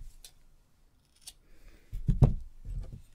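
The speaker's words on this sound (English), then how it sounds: "Cut our yarn and tie that off." Scissors snipping through crochet yarn, a couple of short, crisp, close cuts after near silence, with faint handling noise around them.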